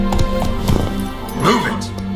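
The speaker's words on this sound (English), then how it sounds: "Whoa there, Roach" Horse hooves clip-clop in The Witcher 3 video game, a short close burst of rhythmic steps over a steady background, with a voice speaking over part of it.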